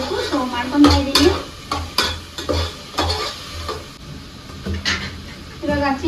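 Chicken pulav being stirred and mixed in a pan, a spoon scraping and clinking in repeated strokes over a low sizzle, with faint voice-like sound in the background.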